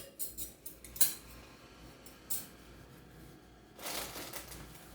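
A spoon and fork are handled, with light metallic clinks, taps and rustling in short scattered bursts, quiet and close with no talking.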